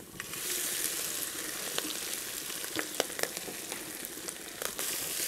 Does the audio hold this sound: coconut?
yes